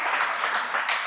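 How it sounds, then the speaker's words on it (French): Congregation applauding during a church service, a dense burst of many hands clapping at once, loud and sustained over about a second. "Applaudissons le Seigneur."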